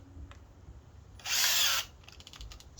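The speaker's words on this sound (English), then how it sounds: "Let's put in this 2-inch bit." A Metabo HPT 18V hammer drill fitted with a 2-inch speed bore bit whines loudly in one burst of about half a second, set against quiet room tone with small clicks before and after.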